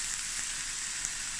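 Ostrich mince frying in a pan gives a steady, close sizzle that holds level and even throughout, a dense hiss with no talk over it.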